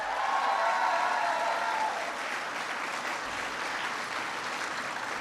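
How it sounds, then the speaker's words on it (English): Crowd applauding at a presidential speech on jobs and the economy in Minnesota, a broad, sustained roar of clapping from a large audience, loud and continuous with a brief cheer-like tone early on. "Give them a big round of applause."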